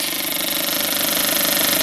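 Engine fuel injector pulsing at about 1,500 RPM, a rapid, even mechanical ticking over a loud continuous running engine, close up.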